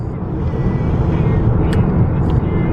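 A loud, steady rumble of road and engine noise fills the cabin of a shaking car on a long highway drive, a continuous low roar with a couple of brief clicks partway through and no clear speech.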